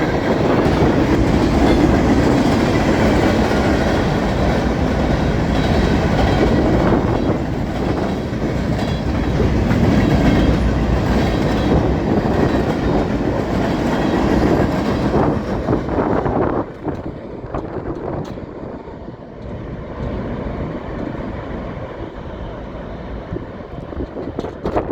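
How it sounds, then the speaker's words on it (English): A westbound Norfolk Southern freight train rolls past near Lebanon, Pennsylvania, with a loud continuous rumble and rattle of cars that suddenly thins out as the end passes, leaving a fainter clatter. "Train 33A follows 260 westbound, headed to Conway, coming from Abrams, Pennsylvania, just outside of Philadelphia."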